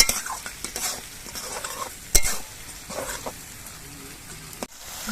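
Onions and tomatoes with salt frying and being stirred in a pan while making potato alur dom, a steady sizzle broken by scraping spatula strokes and a sharp clink of utensil on metal near the middle.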